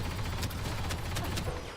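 Gunfire in the shooter game Battlefront 2, a dense continuous barrage of rapid shots with several sharper cracks standing out, sustained and loud throughout with no talking.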